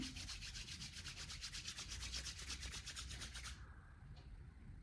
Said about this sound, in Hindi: उसके बाद आपको अपने दोनों हाथों को रब करना है।